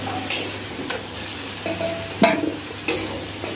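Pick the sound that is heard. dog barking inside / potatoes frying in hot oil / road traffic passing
potatoes frying in hot oil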